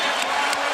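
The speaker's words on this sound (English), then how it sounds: "And here comes the crowd" Basketball arena crowd noise swells in a brief, loud burst of cheering and roaring. It is a dense wash of many voices, with some speech mixed in.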